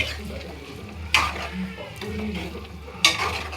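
A spoon stirring chicken curry in a pan, with a soft, steady sizzle of frying underneath and two sharper scraping strokes against the pan, close and moderately loud, no talk.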